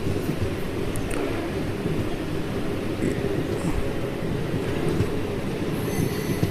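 A passenger train rumbles steadily along the rails while taking a curve between Repalle and Tenali, India, a continuous low roar with faint metallic squeals now and then, heard from on board.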